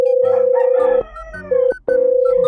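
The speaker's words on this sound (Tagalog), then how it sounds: "Ano ba yan? Puro manok." Roosters crowing loudly and close at a delivery drop-off, several long sustained cock-a-doodle-doo calls overlapping one another with brief breaks between them.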